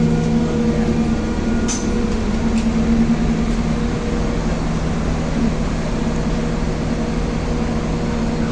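A diesel train running close by, its engine giving a loud, steady low rumble and drone that holds without a break.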